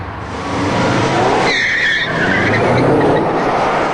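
A Subaru Impreza STI and a 22B launch hard off the line at a drag strip: loud, close engine roar with tire squeal and skidding swelling over the clip, continuing without speech.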